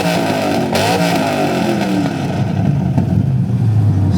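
Chevrolet Corvette C8 Z06 engine revving hard at a supercar show, a loud close blare that sweeps up in pitch, then falls away into a lower rumbling drone.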